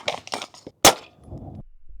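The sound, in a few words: suppressed 9mm 115 grain full metal jacket gunshot, Smith & Wesson FPC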